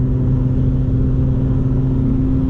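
A Lotus Evora 400 engine drones steadily at close range, a sustained mid-pitched hum with no clear rise in revs, alone without voices.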